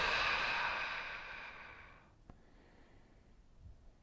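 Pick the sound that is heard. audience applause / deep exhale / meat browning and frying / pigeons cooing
deep exhale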